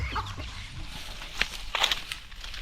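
Chickens cluck at a rural farmstead vegetable garden, a few short calls rising over a steady outdoor background with no talk.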